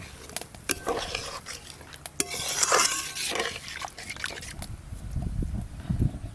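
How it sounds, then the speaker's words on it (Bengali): Spice masala is stirred and sautéed in a pot for a pangas fish curry. Close, rough scraping and stirring strokes sit over a low, hissing sizzle, with heavier bumps of the utensil near the end. No one speaks. "সেরকম ভাবেই তো মশলা কষা হচ্ছে, আবার গরম মশলা বাটা পড়বে একটু পরে।"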